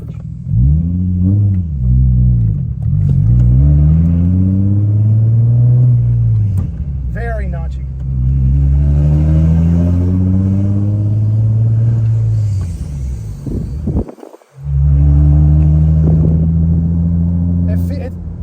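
An Infiniti G35 fitted with a Coolerworx short shifter rumbles and revs through gear changes on a test drive, the engine note rising and falling in several pulls with a brief drop near the end, recorded from inside the car.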